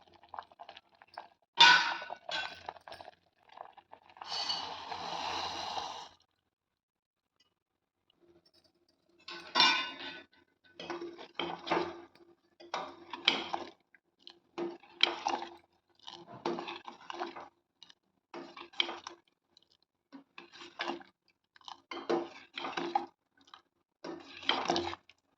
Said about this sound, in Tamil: நல்லா சர்க்கரை சேர்த்து நல்லா கிண்டி விட்டுக்கலாம்.